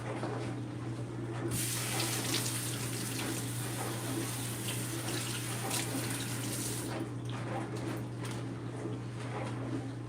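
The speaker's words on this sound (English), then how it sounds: "let me rinse off my onions and my thyme" Tap water running steadily into a kitchen sink while onions and thyme are rinsed under it, a close continuous splashing hiss with a faint hum beneath and no talking.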